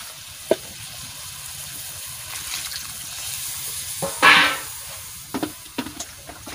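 Water rinsed from a spice-grinding plate is poured into a pan of frying masala, bursting into a brief loud hiss after a few clinks, with scattered taps and softer sizzling around it.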